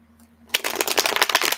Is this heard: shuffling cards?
yes